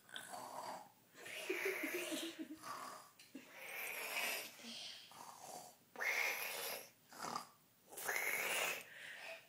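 A small child imitates snoring in a series of loud, breathy snorting and wheezing bursts, about five drawn-out vocal snores spaced evenly across the span, close to the listener.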